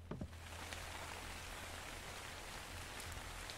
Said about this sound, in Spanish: ¿por qué suena la lluvia dentro de mi casa?